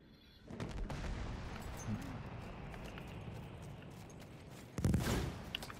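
Light machine gun fire in the shooter game Battlefield 1, a dense rapid rattle of shots sustained across the clip with a louder burst near the end, set against battlefield noise.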